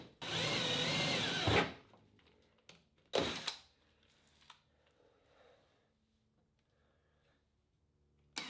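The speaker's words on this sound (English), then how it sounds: "we can start drilling holes" A power drill bores holes into a Subaru STi fender while HT Auto flares are being fitted. Two loud, close bursts stand apart: a longer whine first, then a short one, with quiet clicks and shop noise between them.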